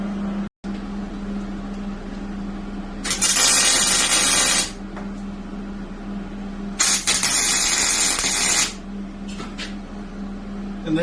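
A welder tack welds the dashboard of a racing lawnmower, giving two loud, hissing, crackling bursts of a few seconds each over a steady low hum, close by and with no talking.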